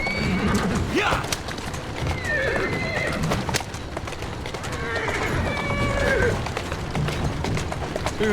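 A horse whinnies repeatedly while its hooves clip-clop along a street in the Victorian London setting of Assassin's Creed Syndicate, loud and close, with game voices talking over it.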